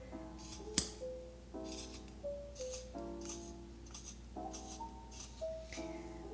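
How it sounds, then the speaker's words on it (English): Scissors snip through macrame cord in a series of short, crisp cuts with a sharp clink near the start, close and fairly quiet, with a steady musical backing underneath. "this is where our scissors come in handy"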